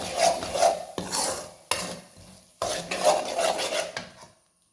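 Egg filling seasoned with salt and pepper being stirred in a pan, with a spoon scraping and clinking in steady, rhythmic strokes that pause briefly between bursts, close and moderately loud.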